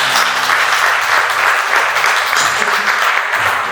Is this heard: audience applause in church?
yes